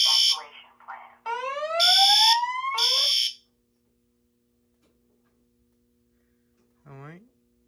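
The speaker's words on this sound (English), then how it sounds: "The signal you have just heard indicates a report of an emergency in this building." Fire alarm system demo plays its evacuation signal: loud whooping sweeps and chirping tones in quick bursts over a low mains hum, then silence, and one final rising whoop near the end.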